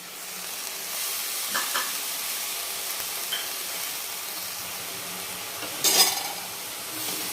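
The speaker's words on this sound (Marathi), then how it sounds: "छान आपण आता भाजून घेऊ हिला" Wild leafy greens roast in a heavy-bottomed kadhai with a constant close hiss and sizzle, broken by scraping stirs and one louder burst of sputtering near the end.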